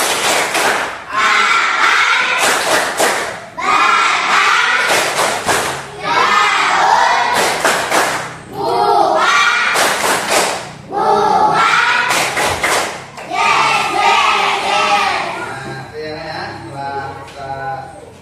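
Classroom group playing the tepuk tumbuhan clapping chant game, loud bursts of unison clapping and shouted chanting repeating in rhythmic phrases with short pauses between, close and lively.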